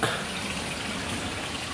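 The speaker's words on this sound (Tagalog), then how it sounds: "dito yan lalabas ang tubig papunta doon sa sapa" Water gushes steadily out of a fishpond outlet pipe toward a nearby stream, a dense, unbroken rushing wash that stays loud and constant throughout.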